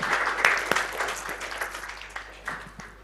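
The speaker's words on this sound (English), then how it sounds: "So a very round of applause to the teams" Audience at a hackathon finale applauds the top teams, a dense wash of clapping holding steady for about three seconds, with a few sharper claps near the start.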